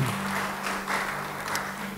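Brief applause from a church congregation at an Indonesian service rises and falls softly over a low steady hum, fairly faint and without voices.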